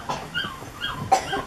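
A five-week-old puppy whimpers in short, thin, high yelps and whines scattered over a faint background.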